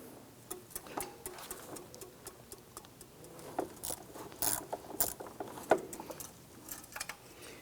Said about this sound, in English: I want to loosen all of these first, and then I'll come on back and remove them.